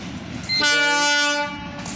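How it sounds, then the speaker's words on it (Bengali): A train pulling into a station sounds one long, loud horn blast lasting about a second. It rises over a low background rumble and then fades back to the quieter ambience. "ওই দেখো একটা ট্রেন চলে আইছে"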